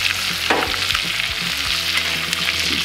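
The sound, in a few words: steak sizzling in pan while being basted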